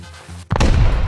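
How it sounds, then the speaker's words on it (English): Satchel charges detonate against a base frame in a survival video game, a sudden heavy boom halfway through followed by a loud, rumbling roar that keeps going to the end, after a quieter low hum. "setting off those satchels seemed to have destroyed more than just the frame"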